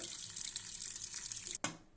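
Water runs steadily from a tap into a pressure cooker holding sweet potatoes for nearly two seconds, then stops briefly with a soft clunk before flowing again.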